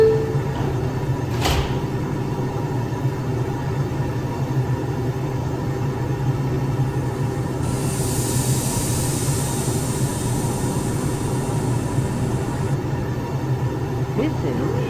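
An R142 subway train at 14th Street–Union Square on a 5 express run stands with its door chime and closing doors, then begins departing with a steady rumbling hum and a brief hissing burst partway through; no one speaks.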